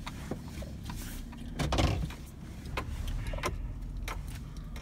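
A car pulls into a driveway at home, its engine rumbling low underneath while a few door clunks, latch clicks and a soft rustle sound nearby, with no talking.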